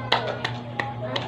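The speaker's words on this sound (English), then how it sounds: "Clap your hands, class." A class claps hands in a few short bursts, four quick claps spaced irregularly, fairly close and moderately loud over a steady room hum, with no talk.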